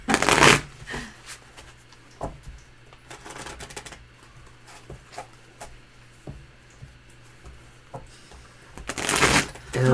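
Tarot cards from a brand-new Haunted House Tarot deck being shuffled in a series of crisp riffling bursts, loudest at the start and the end, with quieter card handling between and a faint low hum underneath.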